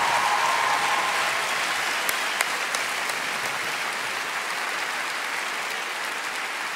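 Audience applause fills a talent show stage during a semifinal, steady, dense clapping that holds loud from start to finish, with a few sharper claps standing out, no voices on top.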